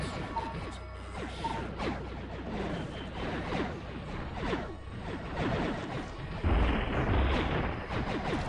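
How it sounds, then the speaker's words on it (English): Enemy cannons fire in the space-combat game Space Pirates and Zombies, a dense stream of rapid booming shots and crashing impacts with whooshes, swelling heavier toward the end, with no voices. "Oh, these guys have cannons."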